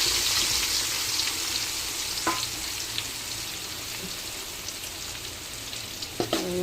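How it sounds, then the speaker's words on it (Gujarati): Chopped onions fry in hot melted butter for street-style pav bhaji, giving a loud, steady crackling sizzle that fills the whole stretch, with a few soft clicks from stirring and no talk. "હવે આપણે એમાં ચોપ કરેલા કાંદા નાખી દઈશું"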